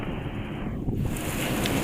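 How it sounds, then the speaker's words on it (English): Strong wind buffets the microphone in a constant low rumble on a windy day by a choppy sea in the Florida Keys, with a rushing, sea-like roar filling the background. "It's a pretty windy day with a choppy sea."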